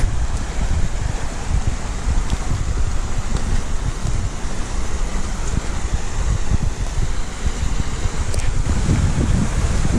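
Waterfalls along the Black Forest Trail send up a steady, loud wash of rushing water, with broadband roar and wind buffeting close to the mic, and no voices.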